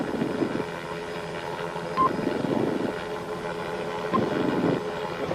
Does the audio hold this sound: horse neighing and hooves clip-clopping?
no